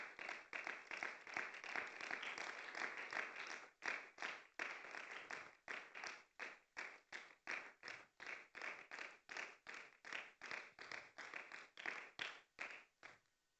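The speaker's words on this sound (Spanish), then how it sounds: "Un fuerte aplauso para el Padre." A church congregation claps after a sermon and closing prayer, a strong run of rhythmic, evenly spaced collective claps in unison, close and fairly loud, continuing steadily for over ten seconds.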